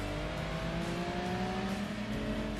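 Race car engine in Gran Turismo 2 droning steadily at high revs with rising and falling pitch, fairly quiet and thin-sounding, without talk.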